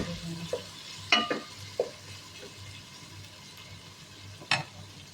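Vegetables frying in a pan with scattered stirring scrapes and clinks against a faint, steady sizzle, quiet overall with a few sharper utensil knocks.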